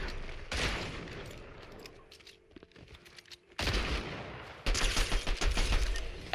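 A pistol fires in Fortnite in rapid bursts of sharp shots, with a quieter stretch between them and a final volley of close, crackling reports.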